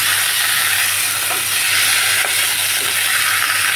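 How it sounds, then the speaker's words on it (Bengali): Potatoes and raw banana fry in a pan with a loud, steady hiss of sizzling oil and only a couple of soft stirring knocks. "আলু আর কাঁচা কলাটাকে একটু ভাজা ভাজা করে নিতে হবে।"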